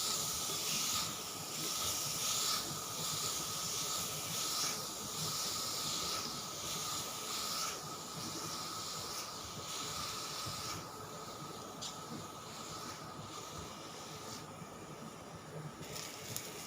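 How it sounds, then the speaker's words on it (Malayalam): Grated carrot frying in a pan for white sauce pasta, a steady close hiss of sizzling that runs unbroken at an even level throughout, with no talking. "ക്യാരറ്റ് ഗ്രേറ്റ് ചെയ്തത് 1 കപ്പ് ചേർത്ത് കൊടുക്കാം. ഒന്ന് ഇളക്കി യോജിപ്പിച്ച് കൊടുക്കുകയാണ്."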